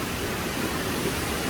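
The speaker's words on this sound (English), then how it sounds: "This is a splendid waterfalls, and there are two levels." Badalgiri Waterfall, a two-level waterfall, roars in a steady, loud, broadband rush of falling water with no other sounds.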